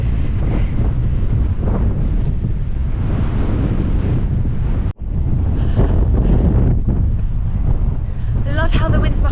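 Strong wind buffets the microphone on a coastal cliff walk along the Seven Sisters, a loud continuous roar with surf-like rushing throughout, briefly cutting out near the middle.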